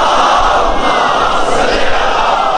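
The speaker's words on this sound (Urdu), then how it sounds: "بلند آواز سے صلوات۔" A large congregation at a Shia religious gathering for the Shaban celebrations loudly recites salawat in unison: a dense, roaring chorus of voices that stays loud and continuous for the whole short stretch.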